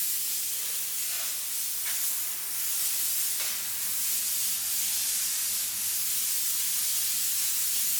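A foaming pump sprayer hisses in a long, steady stream while spraying diluted all-purpose cleaner onto a 2016 Cadillac Escalade, close and continuous, with a couple of faint clicks and no voices.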